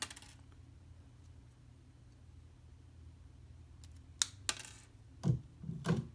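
Wire end being snipped while wrapping a weave-setting ring: after quiet handling, a few sharp metallic clicks and snips come in close succession near the end, crisp and near, without talk.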